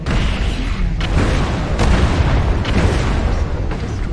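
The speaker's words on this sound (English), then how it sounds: "Incoming missile." An incoming missile from the Fafnir explodes in a video game battle. Dense, roaring boom-like rumble is loud and sustained throughout, with a few sharper bursts breaking through.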